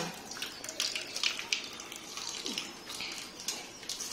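Tap water runs steadily in a home sink as a child's hands are washed, a soft continuous splashing with brief louder spatters, heard close up while an adult talks gently over it.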